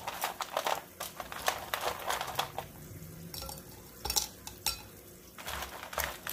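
Chunks of candle wax are stirred and jostled in a container, giving a run of irregular clinking, clattering knocks and scrapes, close and fairly faint, with short quiet gaps between bursts.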